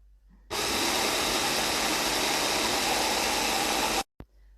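A blender whips ice cream, cream and strawberries into a milkshake with a sudden loud, steady whirring roar that runs for several seconds, then cuts off abruptly, followed by a brief thump.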